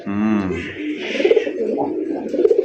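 A male Raj Gola pigeon coos close by in repeated throaty, pulsing phrases, with a brief human voice at the start.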